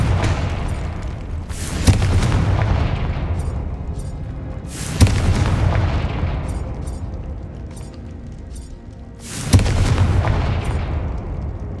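Confringo blasting-spell explosions in the video game Hogwarts Legacy: three loud, booming blasts spaced a few seconds apart, each tailing off into a long rumbling decay.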